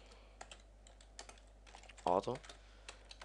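Computer keyboard keys clicked in quick, irregular bursts, with a soft steady hum underneath and a brief voice sounding partway through.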